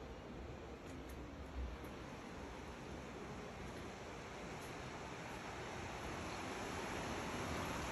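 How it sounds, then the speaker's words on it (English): Steady broadband rushing of flowing water, continuous and fairly even throughout, like a river nearby with no voices. "You can hear the river."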